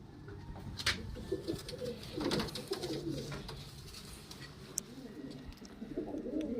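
Soft female pigeons cooing nearby in repeated low murmuring phrases, with a few faint rustles and clicks in the background.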